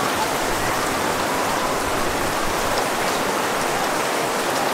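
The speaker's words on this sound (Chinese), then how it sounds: "狂风暴雨太扯了，进来还可以表演" Heavy rain pours down in a dense, unbroken roar of drops hitting surfaces, loud and constant throughout with no other sounds standing out.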